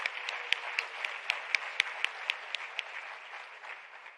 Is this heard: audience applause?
yes